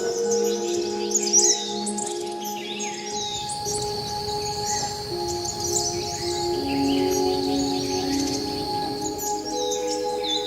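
Birds chirp and twitter in Anand Van park in Dehradun, a steady layered chorus of calls over a constant hum and buzzing, at moderate loudness with no speech.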